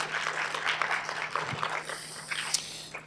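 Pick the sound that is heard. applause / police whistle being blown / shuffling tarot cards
applause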